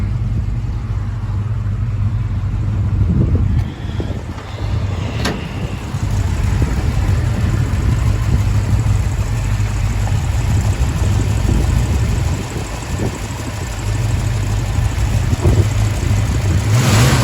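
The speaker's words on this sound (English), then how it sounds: "The engine's really quiet." A 1965 Ford Mustang fastback's C-code 289 V8 running with original exhaust manifolds, a steady low idle rumble heard close, with brief dips and small rises in level.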